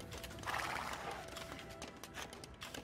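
Horses of mounted archer units in an Age of Empires style strategy match, giving faint whinnies and clip-clop hooves over a busy, low-level game soundscape, with no talk.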